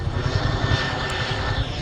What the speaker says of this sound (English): Helicopter. Fort Bragg right there.